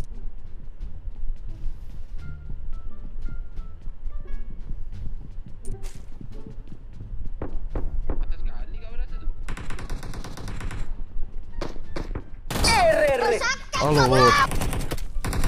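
Shotgun blasts ring out in a mobile battle royale shooter, with a loud cluster of close shots near the end among other gunfire and footsteps, while a player talks over the action.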